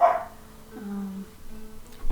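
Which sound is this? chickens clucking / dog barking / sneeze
dog barking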